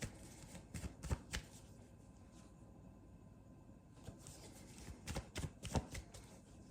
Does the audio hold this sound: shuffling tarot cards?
yes